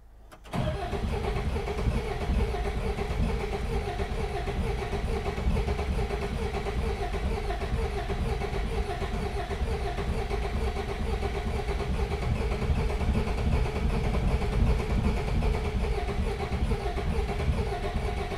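A rusty Peugeot 404 classic pick-up engine cranks briefly, then catches and runs steadily and loudly at a rough idle for the rest of the clip, close to the listener with no talking.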